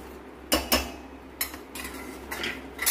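Metal lid set onto a cooking pot of chole, several sharp clanks and knocks spaced apart, followed by softer scraping handling sounds at moderate volume, no talk.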